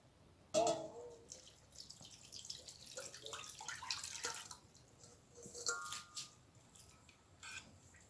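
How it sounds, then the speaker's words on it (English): Water splashes and trickles into a pot in uneven bursts, with drips and a brief clatter, fairly close and moderately quiet. "I'm gonna add some water"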